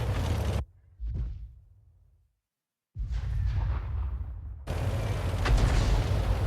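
Artillery shells landing in a World of Tanks style battle game with a 105 leFH18B2 gun, heavy booming blasts with rumbling tails, a short silent gap, then renewed loud explosive rumbling.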